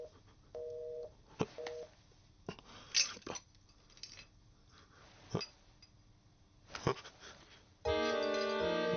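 A telephone in a restaurant kitchen setting gives short two-tone electronic beeps, then a long steady ringing tone at the end, mixed with scattered clinks of dishes and cutlery at low level.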